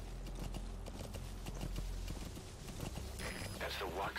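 Horse hooves clip-clop steadily at a trot in Metal Gear Solid V: The Phantom Pain, close and distinct, with a player's voice talking over the hoofbeats.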